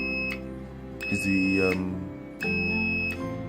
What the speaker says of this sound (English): solenoid valve tripping on and off, and this is the this is the relay that is stripping it on and off